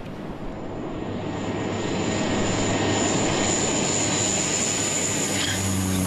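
A fixed-wing airplane touches down on a runway, its engine roar loud and steady throughout with a rising whine and broadband rumble close by, no talk over it.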